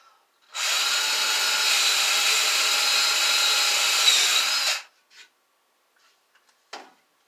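A power screwdriver whirs steadily for about four seconds driving a screw into the wooden edge of a TV stand, then stops, followed by a couple of brief clicks.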